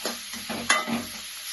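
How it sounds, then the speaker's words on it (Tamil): Onions frying in a pan with a spoonful of salt for a village chicken fry, a steady close sizzle broken by a few scraping stirs and one sharp clack of a spoon partway through. "கெதியா வதங்கி வெங்காயம் நல்லா பொரிந்து விடும்"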